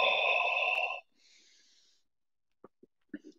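A pilates instructor breathes during a slow spinal rotation: a loud, breathy, wheezing inhale lasts about a second, a softer airy exhale follows, then a few faint clicks and small movement sounds.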